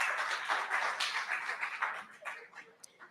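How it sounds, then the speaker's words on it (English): Applause from a conference audience greeting a speaker at a Black immigration and refugees event, a short burst of clapping that fades over about three seconds with a few scattered late claps. "A round of applause, please."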